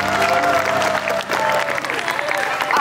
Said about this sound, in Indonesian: Tepuk tangan dong untuk keluarga Nur Ali.